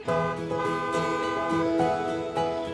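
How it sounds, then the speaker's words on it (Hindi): Several vehicle horns sound in a row on a street in a domestic TV drama scene, a string of loud, overlapping toots and honks with short gaps between blasts, close by and with no talking over them. "एक हॉर्न के बाद इतने हॉर्न बजाने शुरू हो जाते हैं"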